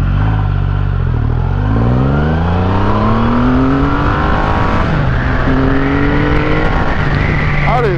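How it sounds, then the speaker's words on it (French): A sport-mode motorcycle with Brembo Stylema brakes accelerates hard and loud, its engine pitch climbing steadily through the gears in continuous rising sweeps, with no voices over it. "On est reparti pour un test d'accélération, toujours en mode sport"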